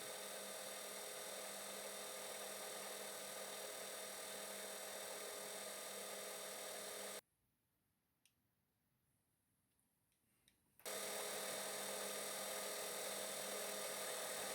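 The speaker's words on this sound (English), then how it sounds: "Then I began the tedious task of milling the slot." A small milling machine cuts a slot in a metal part with light passes, giving a steady, loud, even whine that runs unbroken, stops for a few seconds of near silence, then resumes at full level.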